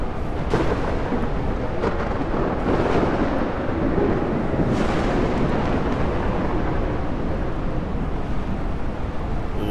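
Thunder from lightning during a sandstorm in the video game Ark: Survival Ascended, a loud sustained rumbling roar mixed with dense roaring wind, with a few sharper cracks, continuous throughout with no talk.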